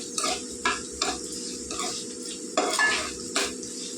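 Cumin seeds and green chillies fry in hot oil for an ivy gourd and curry leaf chutney, giving a steady close sizzle broken by several sharp spoon scrapes and clinks against the pan.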